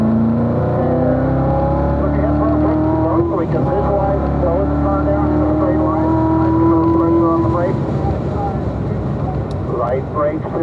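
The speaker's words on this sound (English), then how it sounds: "roll into the throttle there, nice and smooth, accelerate hard down the straight" Corvette Z06 accelerating hard on a race track, a loud steady engine roar climbing in pitch over several seconds with the drone of speed behind, then dipping briefly before building again.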